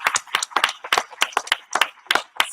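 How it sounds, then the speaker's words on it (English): Audience applause at a live-streamed conference session, a burst of scattered hand claps in uneven rhythm, fairly close and alone without talk. "Let's give her another round of applause."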